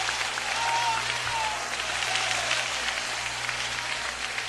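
A church congregation claps during a worship service, a steady wash of applause at moderate distance, with faint voices and a brief tone in the background.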